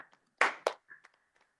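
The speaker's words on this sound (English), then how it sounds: "We can still clap for him in absentia." A few claps and taps from an online audience at a lockdown clown show over video call, two loud bursts followed by several fainter scattered claps, sparse and uneven rather than full applause.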